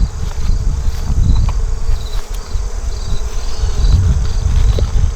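Bees from a nuc hive buzz steadily and loudly at close range, a dense continuous insect drone filling the whole stretch with no voices.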